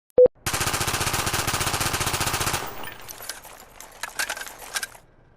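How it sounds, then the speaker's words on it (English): A short click, then a rapid metallic rattling burst for about two seconds, followed by scattered jangling clinks of loose gear during a gun reload in Call of Duty: Black Ops. "there's a continual jangling sound underneath every single reload"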